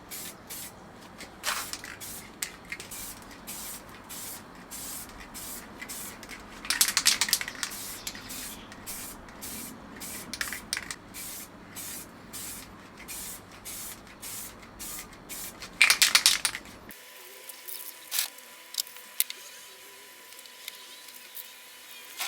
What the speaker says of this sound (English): You do very light sprays a few times.